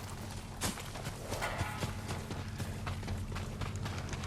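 Horse hooves clip-clop steadily in Ghost of Tsushima, a continuous walking gait set against a dense background rumble.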